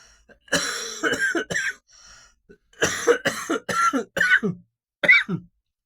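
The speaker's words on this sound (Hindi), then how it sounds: "सॉरी चाहूंगा खांसी के लिए" A person coughs in a quiet room, a run of sharp, close bursts with short pauses between them and a little throat clearing, and no talking.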